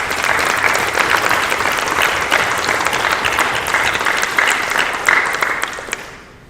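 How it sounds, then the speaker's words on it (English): A board-meeting audience gives retirees a sustained round of clapping, dense and steady for about six seconds before fading out at the end. "please join me in one more round of applause for our retirants"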